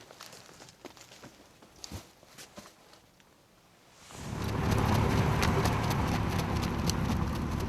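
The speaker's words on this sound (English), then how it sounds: "Suddenly, Sarun gets on a horse and starts riding." Scattered hoof clops at first, then a sudden loud rush as a horse sets off with a rider in Mongolia, galloping steadily and close.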